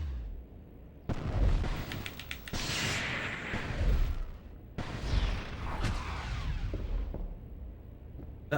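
Spell effects from the Harry Potter and the Order of the Phoenix video game, including a Depulso cast, come as loud broadband blasts and crackling bursts, with a sharp cutoff midway and a second burst after a short gap.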